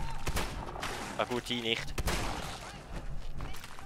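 Gunfire in the video game Fallout 4: several sharp, loud shots crack close by in quick succession, mixed with in-game impact noises, while someone speaks briefly in German over the action.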